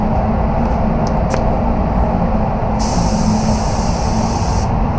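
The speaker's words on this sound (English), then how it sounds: "Okay, you're not spraying properly." A spray gun applies base coat paint to a car in a loud, continuous hiss, close up and unbroken, with a brighter airy layer joining partway through.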